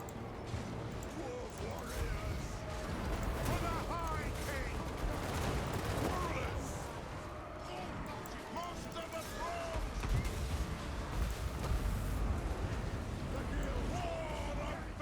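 Dwarf units in Total War: Warhammer 2 fire in a dense, continuous battle din of overlapping gunfire and fusillades, mixed with the clamour of battle and shouting voices throughout.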